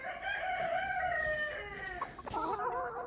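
Chickens in a yard, a rooster giving a long drawn-out crow followed by rising clucks and squawks from the hens, close and clear over a soft outdoor background, no talking.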